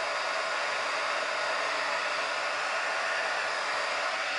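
A heat gun blowing hot air onto fabric edges while making fabric flowers, a steady loud hiss of rushing air that holds constant throughout, with no voices.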